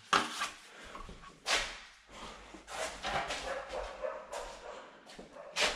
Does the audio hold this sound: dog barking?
yes